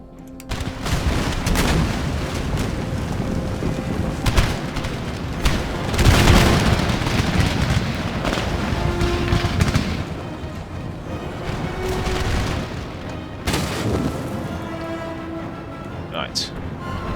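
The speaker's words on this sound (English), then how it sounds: "let our guns do the talking" Cannons and muskets fire in Empire: Total War, a dense rolling battle of booming volleys and crackling shots with heavier blasts around the middle, while voices talk over the din.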